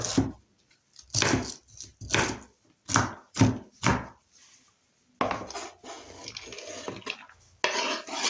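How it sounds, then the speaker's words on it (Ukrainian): A knife shreds cabbage on a cutting board, a run of sharp, close chopping strokes in quick bursts, then steadier scraping and rustling cuts. "нам нашинкувати нашу капустинку. Ріжу я її такими спочатку полосочками, а потім дрібненько перерізаю"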